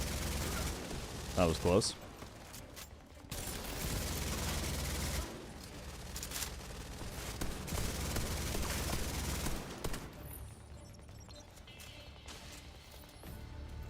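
Rapid gunfire in the shooter The Division 2, dense overlapping bursts and shots over a constant combat roar, with a player's voice speaking over the action.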